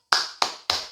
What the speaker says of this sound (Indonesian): mari kita tepuk salut terlebih dahulu